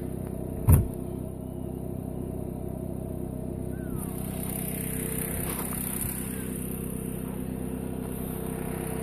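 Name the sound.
black cricket chirping outdoors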